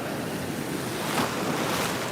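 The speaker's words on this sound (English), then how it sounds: "these surf waves are not normally this awesome" Ocean surf breaking on a Florida beach, a steady broadband wash of waves with some wind buffeting the microphone, continuous and fairly loud with no voices.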